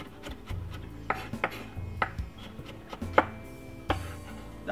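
A knife chops a medium-sized carrot into thin strips on a board, sending out a handful of sharp, separate knocks at an uneven pace. The cuts sit close by over a low hum, with nobody speaking.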